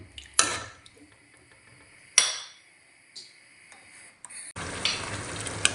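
Sweet and sour sauce heating in a pan for chicken meatballs, with sharp sizzling bursts and clinks of a utensil against the pan, then a sustained frying hiss toward the end.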